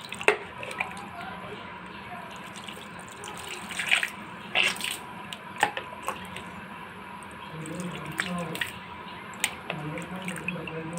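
Tap water runs and splashes in a sink during tooth brushing, a steady stream with irregular drips and splashes and occasional squishy brushing noises.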